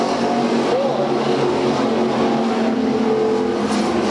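Race cars roaring around a dirt oval at Bakersfield, California, a dense continuous engine drone from multiple cars at racing speed, loud and steady, with a brief announcer's word over it.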